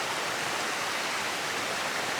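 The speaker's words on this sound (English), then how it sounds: "I think I'm going to cross the creek right there and see what I can find over there." A creek flows through an old growth forest, a steady, close rushing and splashing of water that fills the whole stretch without pause and without any voices.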